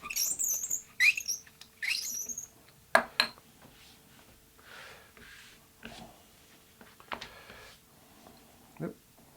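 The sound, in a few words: squeaking of roller pressing leather strap layers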